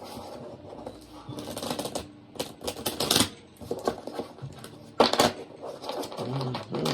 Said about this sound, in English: Let's give the cards a good shufti.